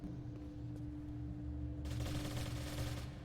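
Automatic gunfire in the video game Warzone, a continuous rattling burst at mid distance that swells louder over the last second and a half above a steady low game hum.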